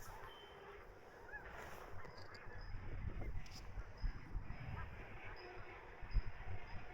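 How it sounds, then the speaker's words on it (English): A large flock of migrating snow geese honks overhead in a steady, faint chorus of overlapping calls, heard outdoors on a Kansas road trip. "Look at all the snow geese."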